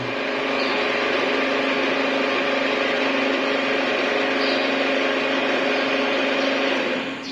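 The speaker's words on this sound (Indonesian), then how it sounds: "mesin milling ini sudah bisa bekerja dengan baik" A new milling machine runs with a loud, steady mechanical hum and whir that holds level for several seconds, close by and alone, with no talking over it.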